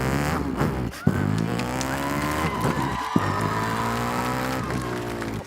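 A performer vocally imitates a tricycle ride, with a continuous buzzing, revving engine drone, rising and falling pitch sweeps, and a couple of sharp clicks, all produced by voice at steady loudness.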